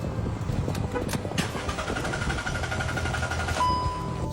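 A car engine cranks repeatedly without catching, a steady churning starter rhythm running throughout at close range, with a brief tonal beep near the end.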